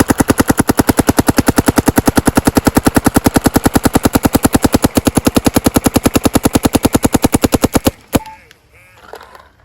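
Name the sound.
DLX Luxe X paintball marker firing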